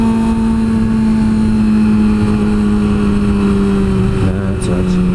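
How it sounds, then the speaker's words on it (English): A motorcycle rides along with a constant close engine drone and steady hum from wind and road, pitch shifting slightly near the end, with riders talking over it. "Thought we'd go for a ride and do a motovlog together."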